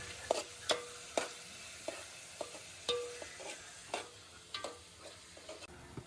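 Onions frying slowly on a low flame for homemade paneer tikka, a quiet soft sizzle punctuated by repeated close spoon taps and scrapes against the pan, without any speech.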